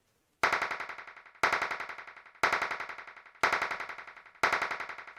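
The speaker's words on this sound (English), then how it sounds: "just hear what the claps sound like with static delay on them" Electronic clap sample run through a static delay effect: five evenly spaced hits about a second apart, each followed by a rapid train of fading echo repeats, in isolation.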